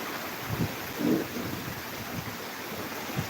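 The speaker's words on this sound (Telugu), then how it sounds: "ఇక్కడ వర్షం అయితే రావడం జరిగింది మీరు కూడా చూడొచ్చు లైవ్" Rain falls in Kakinada as a steady soft hiss, with low rumbling thunder swelling briefly in the distance; no voices.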